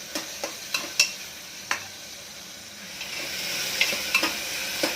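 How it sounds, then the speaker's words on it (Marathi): Tomatoes for Mumbai-style pav bhaji sizzle in a pan while a spatula scrapes and taps the metal in quick, irregular knocks over a steady frying hiss, close and clear with no talking. "टोमॅटोला बरोबर परतून घ्यायचं दोन तीन मिनटं"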